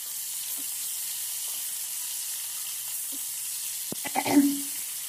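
Chopped onion and tomato frying in a pan, a steady soft sizzle throughout with a brief louder burst of sizzling and stirring near the end; no talk.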